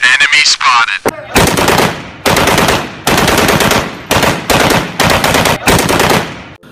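A toy Nerf AK47 sniper gun fires in loud, close rapid bursts, about six sharp rattling volleys separated by brief gaps, with a high whirring sound at the start.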